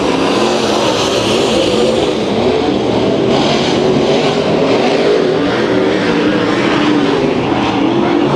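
A dirt track race car, number 36, roars loudly past during a heat race at Santa Maria Speedway, its engine a dense, unbroken high-revving drone with no talk over it.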